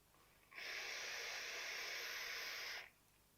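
A vaper takes a single draw of about two seconds through a Dead Rabbit V2 RDA with its honeycomb airflow wide open, making a soft, steady airy hiss that starts and stops cleanly in near silence.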